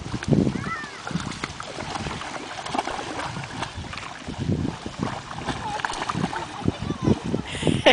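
Irregular splashing of water from swimming at a beach, with the kicks and slaps continuing throughout under excited adult shouting and talk.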